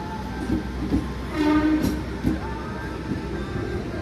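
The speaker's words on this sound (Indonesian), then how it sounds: "Kereta api Kamandaka dari Cilacap tujuan ke Semarang." The Kamandaka passenger train from Cilacap to Semarang rolling past with rhythmic rail clatter and a rumbling hum, moderately close, continuous throughout.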